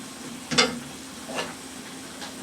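A cup of water hits a hot pan, giving a sharp burst of sizzle followed by a second, softer hiss, then quiet simmering.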